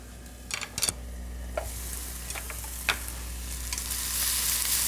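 Onions frying in a pan, a continuous sizzle that slowly grows louder, with a few short clinks and scrapes of a utensil early on over a low steady hum.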